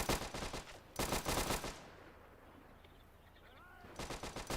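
SMG gunfire in a real-time strategy game: rapid rattling bursts, one at the start, another around a second in, then a quieter lull with distant pops before a final burst.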